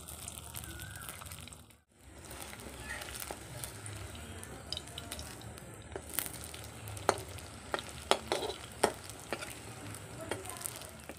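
Eggplant slices fry in oil in a pan, sending up a steady crackling sizzle broken by occasional sharp pops and stirring scrapes, with one brief dip to near silence early on.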